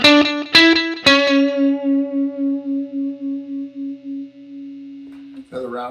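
Stratocaster guitar played through a Fender '65 Deluxe Reverb amp: three bright plucked chords ring out, then a single sustained note pulses with steady tremolo for several seconds before a brief new strum at the end.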